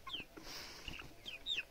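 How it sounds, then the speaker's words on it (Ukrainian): A domestic hen clucks in a rural yard, giving a few short, faint, high-pitched calls spaced out across a quiet background. "Це моя курка."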